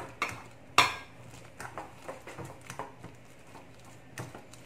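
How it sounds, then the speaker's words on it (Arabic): A fork mashing banana in a bowl for protein cookies, with soft irregular squishing and scraping punctuated by a few sharp clinks of metal on the dish, close and fairly quiet. "غادي ناخذ واحد الفورشيت او الشوكه ونبدا كنمعس هاد البنان"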